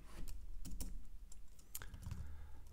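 Typing code on a computer keyboard, a quick irregular run of close, soft key clicks with brief pauses between bursts, quiet and alone.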